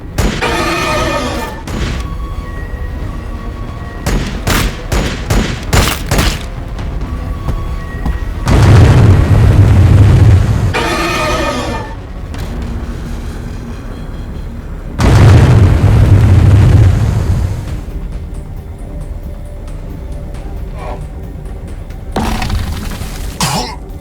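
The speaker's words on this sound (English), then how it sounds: "We are taking fire!" Booming blasts and bursts of weapon fire in a Warhammer Battlesector cutscene, loud heavy impacts with rumbling low-end tails separated by quieter stretches, with scattered sharp pops.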